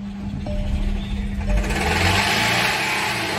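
A damaged Volkswagen 2.0L TSI EA888 engine idles with a steady whirring, rattling drone that grows rougher and louder partway through, heard up close with no talking.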